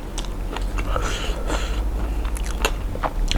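Someone bites and chews spicy Thai papaya salad close to the mic, wet crunching and smacking bites repeating over a few seconds with no talk.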